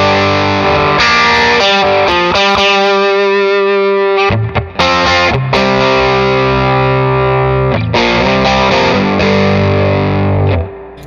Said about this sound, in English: I'll add a little distortion with a Whitfield DUI pedal.